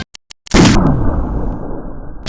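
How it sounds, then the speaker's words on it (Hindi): A loud explosion as an artillery shell bursts right at the muzzle of a cannon during firing practice at the Pokhran range, a sharp blast after a few faint ticks, then a long rumbling roar that slowly decays. "अभ्यास पे तोप से निकलते ही गोला फटा"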